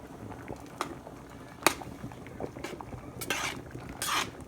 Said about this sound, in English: And then we're just going to kind of stir it in.